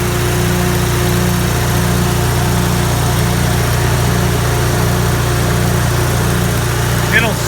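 Farmall Super C tractor engine idling in cold weather, a steady low rumbling drone with even pulsing throughout, loud and close, with a voice speaking over it.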